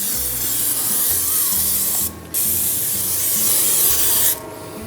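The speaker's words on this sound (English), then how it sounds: "So I'll just give it a good coat of oil" Cooking oil sprays from a can onto a turkey before it goes into an oilless fryer, two long, loud, close hissing bursts, each stopping briefly, over a low background rumble.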